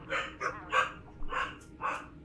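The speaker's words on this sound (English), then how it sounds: "don't know what she's barking at" A female dog barks about five times in separate sharp bursts at a moderate distance, with quiet pauses between the barks and no talking.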